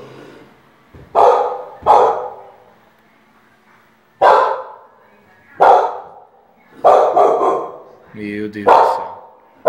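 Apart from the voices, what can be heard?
dog barking on the stairs at night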